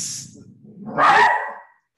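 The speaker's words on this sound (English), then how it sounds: "my dog sees something outside. He's going to start barking now." A Havanese dog at home gives one loud, close bark that rises out of lower whining grumbles, then stops into silence.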